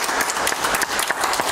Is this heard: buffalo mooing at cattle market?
no